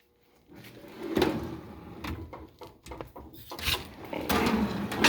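A metal toolbox drawer slides open with a rattle and scrape, followed by a few clunks and shuffling handling noises nearby.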